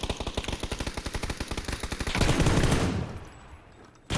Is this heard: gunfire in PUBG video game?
yes